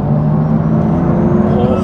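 Turbocharged BMW M2 with a tuned N55 engine making 625 bhp, a steady loud engine drone with a whirring turbo spool layered on top, close and continuous for the whole stretch.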